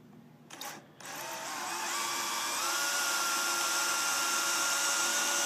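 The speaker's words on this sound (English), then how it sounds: "I'm going to go ahead and drill this one on through." A power drill revs up after a couple of brief bursts, then runs steadily with a high, whining grind, close and loud.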